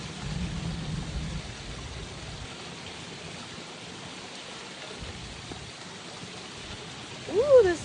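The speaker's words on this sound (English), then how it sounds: "It's raining." Light rain falls in an Arizona thunderstorm, a faint, steady hiss that stays soft and distant, with a brief low rumble near the start and a short louder burst at the end.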